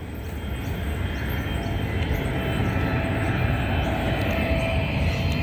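A Waratah A80 passenger train, the last of its set built, rumbles past at Stanmore in Sydney as a loud, continuous roar that holds steady throughout.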